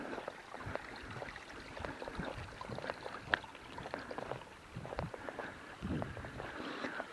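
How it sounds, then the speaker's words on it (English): A babbling creek runs through woods in Potter and Tioga County, Pennsylvania, its faint, steady trickle and splash continuing alone without voices. "Nothing better than listening to the babbling cricks in the woods."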